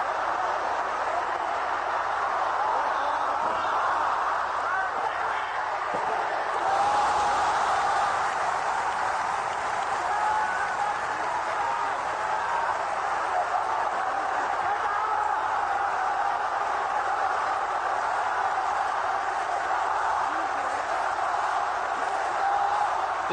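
Wrestling arena crowd at a live event, a dense sustained roar of many voices filling the space steadily, loud and unbroken.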